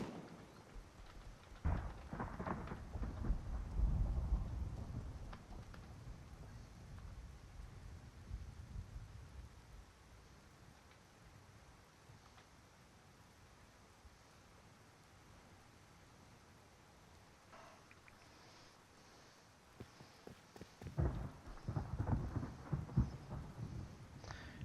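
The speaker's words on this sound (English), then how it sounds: "Must admit, I do like the storms." Thunderstorm with rain in the Rust video game: a steady wash of rainfall with low rolling thunder rumbles near the start and again near the end, heard alone.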